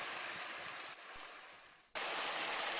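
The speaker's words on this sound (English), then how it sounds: "you can see the water bubbling up between the stones to become a river" Water bubbling up between stones to form a stream, a steady broadband rushing that dips in level midway and then returns fuller and louder, with no voices.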